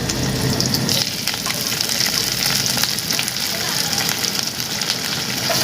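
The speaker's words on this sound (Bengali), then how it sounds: "এবার এটা নেড়ে নিতে হবে তেলের মধ্যে একটু ভেজে নিতে হবে" Dense, continuous sizzling of food frying in hot oil, close and loud, with faint scraping as it is stirred; chicken pakora with curry leaves frying.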